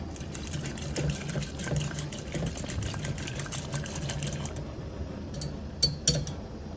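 Gujarati dal (lentils) boiling in a pot on a gas stove for dal dhokli, giving a steady close bubbling and burbling with soft rhythmic pulses and a few brief clinks near the end, with no talking.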